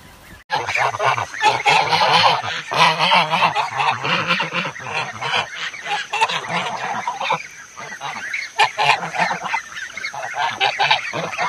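Lion-Head geese honk on a farm, a dense, loud chorus of overlapping nasal calls that runs almost without a break from start to finish.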